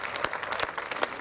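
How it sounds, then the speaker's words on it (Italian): A brief burst of dense applause from an audience at an event in Venice, steady clapping with a few sharper claps standing out. "un applauso doppio a un ragazzo"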